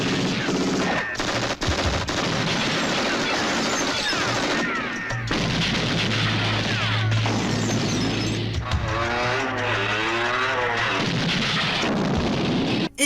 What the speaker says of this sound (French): tout ce qui est pyrotechnique, les explosions synchronisées